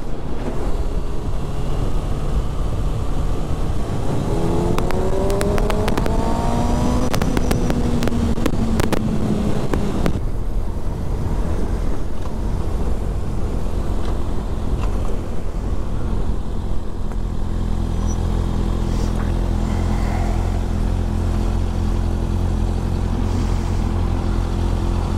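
A motorcycle riding through city streets, its engine droning steadily and close with a rising and falling pitch, wrapped in constant wind rush against the microphone.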